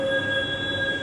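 Steady high-pitched wheel squeal from a Jakarta LRT train leaving Velodrome station, several sustained shrill tones held over a low rumble of the moving car.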